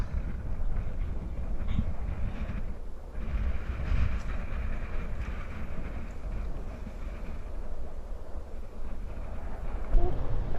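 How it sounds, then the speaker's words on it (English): Strong wind gusts through a ravine and buffets the microphone, a steady, loud, low roar that goes on without a break for the whole stretch. No voices are heard over it. "damn, it is windy as fuck out here."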